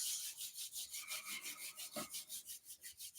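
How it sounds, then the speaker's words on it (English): Two palms rub briskly together, making a close, dry swishing in an even back-and-forth rhythm of roughly five strokes per second that continues without talk. "Bring your hands together up in your heart center and start to rub your palms."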